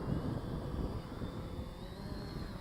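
An Eachine Pioneer 350 GPS camera drone climbing in manual mode, its rotors giving a steady, close, droning whir with wind buffeting throughout.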